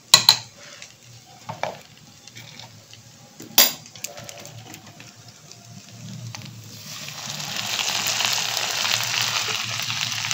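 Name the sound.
stirring pasta with cream in a pan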